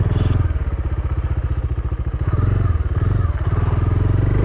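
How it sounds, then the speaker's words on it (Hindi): A motorcycle brakes hard with both front and rear brakes while ABS prevents a skid: a close, loud engine drone with rapid rhythmic pulsing that dips briefly midway. "देखो अगला और पिछला दोनों ब्रेक मैंने पूरी ताकत से दबाए, लेकिन बाइक बिल्कुल भी स्केट नहीं करी, क्योंकि यहाँ पे अपना ABS काम कर रहा है।"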